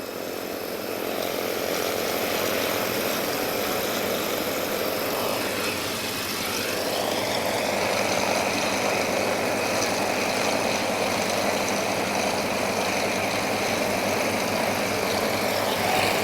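Yak-52 aircraft with M14 radial engines run loud and steady at an airshow, a continuous rough roar that rises and shifts pitch midway as they pass.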